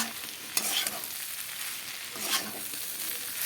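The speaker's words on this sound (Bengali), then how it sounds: "কাঁচা লঙ্কা পেঁয়াজটা দিয়ে এখন আবারও ভালো করে লাল লাল করে ভেজে নামিয়ে নেব।" Green chillies and onion frying in a pan, a steady soft sizzle close by with two brief bursts of louder hissing and scraping as the mixture is stirred.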